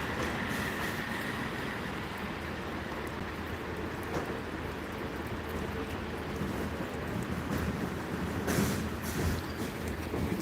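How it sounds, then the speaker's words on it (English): A Class 165 Network Turbo diesel train slowing to a stop at a Gloucester station, a steady rumbling and rolling noise with wind buffeting the microphone throughout, the engine settling toward idle. "Taking a while to stop the train"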